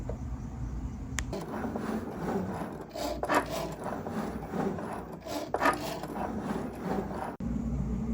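A printed vinyl sticker sheet being cut, heard as a steady rasping, scraping rub that starts about a second in and runs for several seconds with small uneven bursts, close and fairly loud, with no voices.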